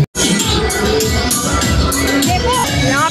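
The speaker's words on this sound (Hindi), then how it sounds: "यहाँ पे तो बहुत काफी भीड़ है।" A dense crowd fills a Navratri festival pandal, a loud, continuous wash of many overlapping voices and general bustle, heard close and without pause.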